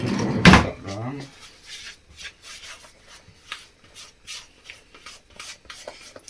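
A spoon stirs batter in a bowl in a home kitchen, giving soft scraping rubs in an uneven rhythm after a loud knock at the start.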